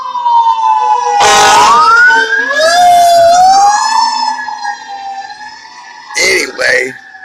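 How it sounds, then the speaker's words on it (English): A fire truck siren blares loudly down a street early in the morning, wailing up and down with rising sweeps and sharp blasts, close and dominant, sliding away between bursts. "Here comes the fire truck, blaring the fucking siren."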